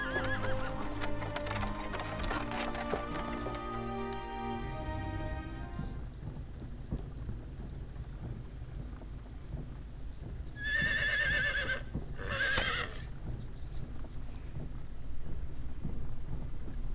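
In a Star Ocean: Till the End of Time game scene, a horse whinnies and hooves clip-clop as a horse-drawn wagon sets off, with music fading into rumbling, rain-like ambience and two more neighs later on.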